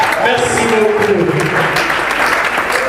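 Applause rises from an audience at a gathering, a short, even spell of many hands clapping with voices mingled underneath.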